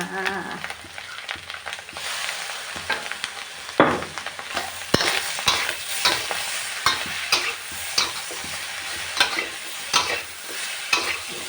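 Seasoned eggs (Thai khua khai song khrueang) are stir-fried in a pan, with a steady sizzle under repeated scraping and clattering spatula strokes that come in loose, uneven bursts, close and fairly loud, with no talking.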